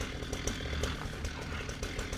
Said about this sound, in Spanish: era una motosierra